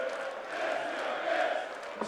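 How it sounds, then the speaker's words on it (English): A darts crowd at the Dutch Open finals cheers and applauds a player in a steady, loud swell of many voices that lasts the whole moment. "He's getting the appreciation from the crowd."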